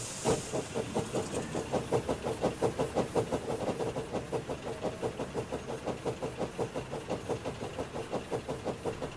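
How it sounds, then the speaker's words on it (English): A tank engine starts and pulls away, steady rhythmic chuffing with hissing steam beating evenly and close for the whole stretch, the exhaust beats gradually quickening. "Started the tank engine, and with that, Bash and his crew set off."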